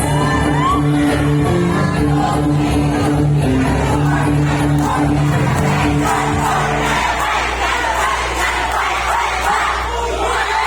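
A youth camp section crowd at a night gathering roars with sustained shouting, whoops and cheers, loud and close, a dense wall of voices that thins slightly toward the end.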